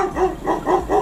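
Dogs bark indoors, several quick, loud, close barks in rapid succession over a steady low background hum.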